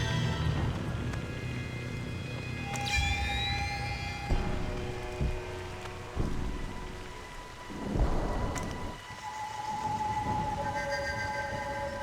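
Thunder and rain in the stealth video game Splinter Cell: steady rainfall runs throughout, with several heavy thunder rumbles and cracks rising out of it, plus scattered tonal game sounds in between.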